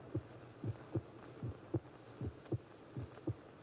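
A heart pounds in a radio drama as a condemned man is brought to the gibbet. Steady, faint, muffled double thumps come at an even rhythm, about eight beats alone over a low hum.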